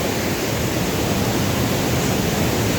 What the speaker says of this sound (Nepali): रसुवाको मैलुङ झरना हो यो।